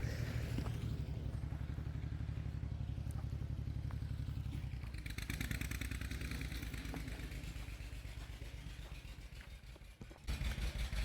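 A heavy diesel engine chugs steadily nearby, rhythmic low throbbing that shifts in pitch and eases slightly before picking back up.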